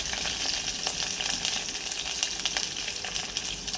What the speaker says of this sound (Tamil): பூண்டு நல்லா கோல்டன் ப்ரௌன் ஆகும் லைட்டாக.